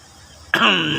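After a quiet moment, a single sharp cough bursts out close by, trailing into a rough, throaty exhale.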